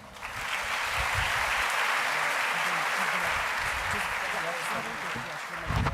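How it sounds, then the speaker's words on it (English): An audience at a university welcome ceremony, the Rector and Vice-Chancellor's welcome, claps steadily for about six seconds. The dense, sustained applause fills the hall, swelling slightly near the end. "Please give a big round of applause to my esteemed colleague, Ms. Nasrana Parker"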